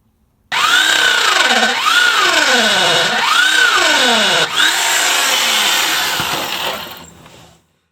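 A power drill whines loudly and steadily while drilling through a boat hull, its pitch rising and falling in waves as it bites into the hard material, then cutting off after several seconds.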